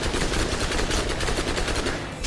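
Continuous rapid submachine gun fire in Borderlands 1, a dense unbroken stream of shots at steady loud volume for a couple of seconds, trailing off slightly at the end.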